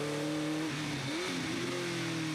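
A TVR Challenge race car at Croft circuit downshifts and brakes hard into the hairpin, its engine note revving and then dropping through the gears, with trackside commentary faintly underneath.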